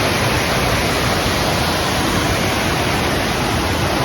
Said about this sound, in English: So this is Sable Falls. Pretty cool waterfall.